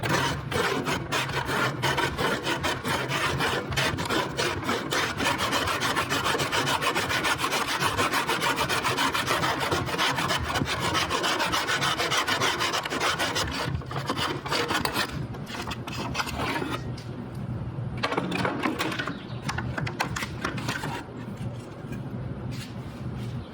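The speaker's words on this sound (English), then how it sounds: "You can use a handsaw." A handsaw cuts through scrap wood for a simple sign project, its rasping strokes steady and close, then breaking into shorter, uneven pulls near the end.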